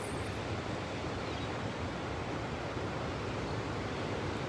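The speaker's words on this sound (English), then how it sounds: "you can hear the rise and the fall of the waves" Ocean waves at the beach at sunrise roll in a steady, dense wash of surf, a continuous broad roar that swells and ebbs slightly, with no voices.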